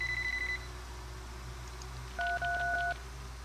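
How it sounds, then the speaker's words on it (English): Telephone touch-tone dialing in the video game Sub Rosa: a steady tone, then a quick run of bright dialing beeps, faint and close over a low hum, with no voices. "no one is picking up the damn phone"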